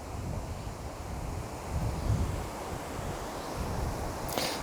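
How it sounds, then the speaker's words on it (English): Strong wind buffets outdoors during flights of DJI Mini 3 Pro and Air 3 drones, a steady roaring rush of wind noise across the microphone with gusty swells and no speech. "Maybe the wind isn't quite so strong."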